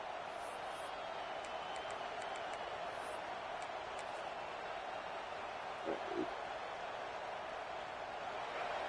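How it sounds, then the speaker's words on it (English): A stadium crowd roars at an American football game, a steady, distant, faint wall of noise that holds throughout without a break. "Listen to this crowd just shaking the girders of this place, trying to help their defense"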